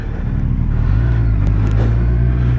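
A 2017 Kawasaki Z1000 motorcycle in fifth gear carries a steady, loud, low engine drone with a rising rev partway through and constant road rumble underneath.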